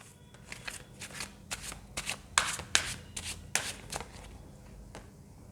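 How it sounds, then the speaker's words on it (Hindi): Tarot cards handled and drawn from the deck, a run of close, crisp riffling and sliding card sounds in irregular bursts, some sharp flicks standing out over a low steady hum. "पहले मैं सारे कार्ड्स निकाल लेती हूँ"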